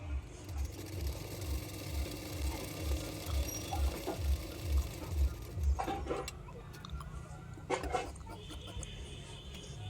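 A sewing machine stitching blouse fabric gives off a rapid, regular mechanical chatter that runs nearly steadily for several seconds, then breaks into a few clicks and handling sounds, close and moderately loud.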